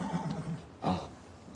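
A horse whinnies twice, a short neigh followed by a louder, fuller one, close and clear over quiet background.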